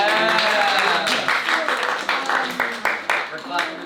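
A class claps together at a debate workshop, with distinct claps landing in a loose rhythm over a background of overlapping voices talking.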